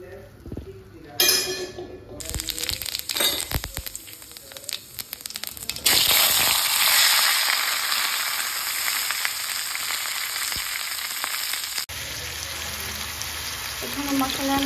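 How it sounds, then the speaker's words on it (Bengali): Fish frying crisp in hot oil, a steady loud crackling hiss through the middle stretch, preceded by clattering handling noises and later partly overlapped by a talking voice. "এই মাছটা কড়া করে ভাজা হচ্ছে"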